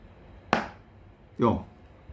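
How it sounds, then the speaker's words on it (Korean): Two sharp, distinct knocks about a second apart, close and fairly loud, each with a brief ringing decay, heard alone without talk. "딱딱딱 하면 이 딱딱딱 소리가 생각하기 전에도 들리죠?"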